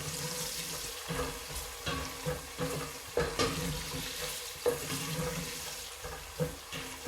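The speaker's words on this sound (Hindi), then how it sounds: "अब हम प्याज को भी हल्का सुनहरा कर लेंगे।" Onions frying in a pan until light golden, giving a quiet, watery, bubbling sizzle with intermittent soft stirring thuds and scrapes.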